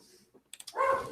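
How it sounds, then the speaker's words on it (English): Dogs bark in the background of an indoor room: a few short, quiet yips come first, then a longer, louder bark or whine near the end, with no talk over them. "sorry about the dogs in the background."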